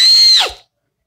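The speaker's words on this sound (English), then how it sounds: "And that sounded like a woman's scream." A woman screams in Soul Historica at an abandoned fortress, a single loud, shrill sustained cry that bends downward in pitch and cuts off sharply into silence.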